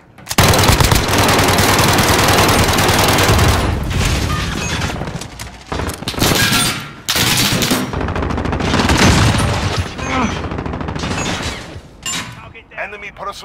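Dense, loud automatic gunfire and explosions on the Petrov Oil Rig map in Modern Warfare, with near-continuous bursts broken by short pauses and shouted voices mixed in.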